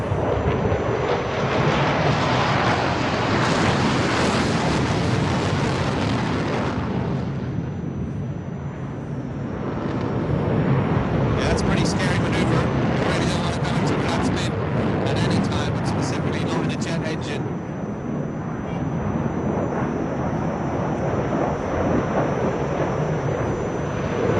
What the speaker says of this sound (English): the aircraft just throttles back up and moves away